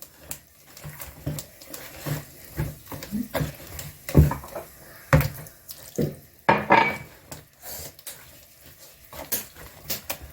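Tap water runs into a bowl as a quarter cup is added to a one-egg, milk-free cake batter, heard as close, intermittent splashing and trickling bursts in a kitchen with no talk.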